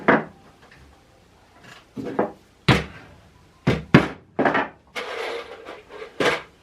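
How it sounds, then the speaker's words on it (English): A beaver pelt being nailed out onto a wooden board: a series of sharp wooden knocks and thunks, some single and some in quick pairs, close up with quiet pauses between strikes. "you got to nail the beaver out on the board"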